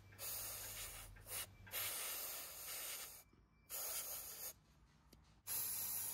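Brake cleaner sprays onto oily motorcycle clutch plates of a Honda RC374 six-cylinder replica, several loud hissing bursts of varying length separated by short quiet gaps, close up with no talk.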